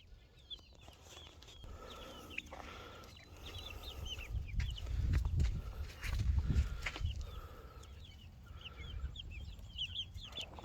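Homestead chickens cluck and murmur as a flock, a continuous mid-distance chatter that swells in the middle and eases off again, with no one talking.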